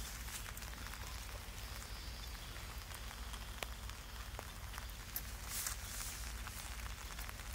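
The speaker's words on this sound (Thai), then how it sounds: "ตอนนี้ฝนก็กำลังตกโปรยปรายอยู่นะครับนี่คือเสียงของเม็ดฝนนะครับ" Steady evening rainfall in the Khao Yai forest patters on surfaces nearby, a constant soft hiss dotted with occasional sharper droplet ticks.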